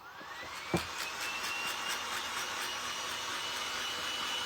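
A handheld dryer blows air to dry paint on woodwork, a steady loud whooshing hum that starts with a click and runs continuously up close, with no talking.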